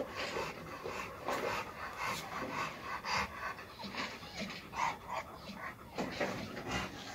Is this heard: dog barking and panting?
yes